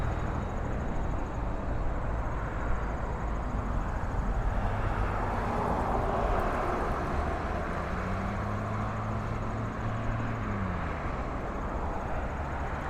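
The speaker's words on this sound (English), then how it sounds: "this is Porter Airlines E195 going to Edmonton" A Porter Airlines Embraer E195 jet airliner bound for Edmonton passes an airport spotting spot, its steady broadband roar swelling and easing over about thirteen seconds with a faint descending engine whine, loud and continuous with no talk.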